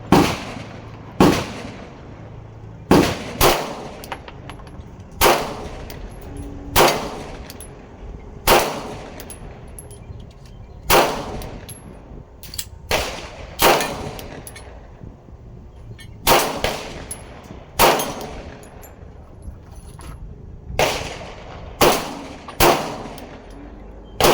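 Pistol shots from a Springfield Echelon with an Aimpoint COA sight and a Glock 19X ring out at a range, roughly twenty sharp, loud cracks in irregular bursts and pairs, each followed by a short ringing decay.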